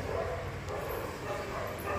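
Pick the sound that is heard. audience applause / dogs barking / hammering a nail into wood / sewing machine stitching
dogs barking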